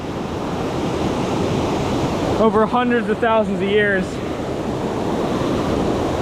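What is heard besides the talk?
waterfall flowing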